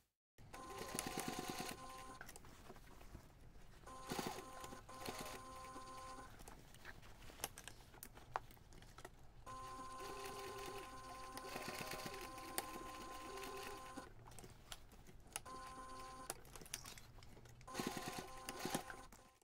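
Sewing machine stitching a small anchoring box over connector straps on a DIY two-compartment backpack, running in steady bursts with brief pauses between runs, close and fairly loud throughout.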